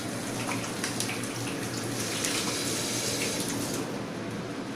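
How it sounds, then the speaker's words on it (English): Hands being washed with soap under a running tap, a steady close stream of water splashing in a sink throughout with no talk. "I will wash it again with soap"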